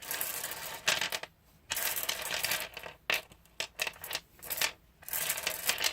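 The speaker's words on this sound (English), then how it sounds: "you put your intention into the runes, and then you mix them up this way in a clockwise" Hard small rune stones clatter and rattle together as they are mixed by hand, in uneven bursts with short quiet pauses between.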